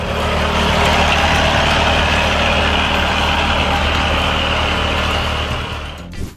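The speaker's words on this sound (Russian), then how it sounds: "трактор без водителя окучивает картошку" A heavy driverless tractor engine drones steadily and loudly from close by while hilling potatoes, a constant low rumble that holds for several seconds before dropping away at the end.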